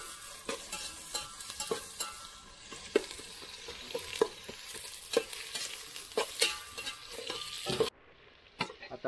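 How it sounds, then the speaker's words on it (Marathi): Onion fries in a little oil in a pan over a village wood-fired chulha, a soft sizzle under frequent sharp scraping and clinking of a spoon stirring at an irregular pace. "कांदा भाजायला टाकलाय, थोडंसं तेल घेतलंय."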